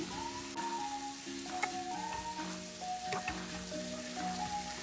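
Vegetables and green beans sautéing in a pan, a steady close sizzle running throughout with light stirring clatter, no talking.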